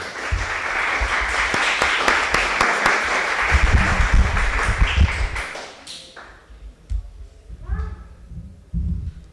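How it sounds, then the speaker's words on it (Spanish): A seminar audience applauds to welcome a crime-fiction writer, dense clapping sustained for several seconds before thinning out, followed by a voice speaking over the last scattered claps. "Vamos a recibirla con un aplauso"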